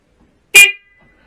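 A Triumph Bonneville motorcycle's electric horn gives one short, loud, clear honk in a quiet workshop, with a brief ringing tail as it stops.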